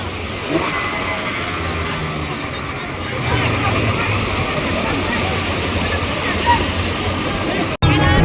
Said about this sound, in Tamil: 40 கோஸ் பவர் இன்ஜின் வழியாக அள்ளி இறங்கி கொண்டு போகுது